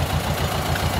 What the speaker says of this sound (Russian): Ну, подъезжает трактор, цепляет.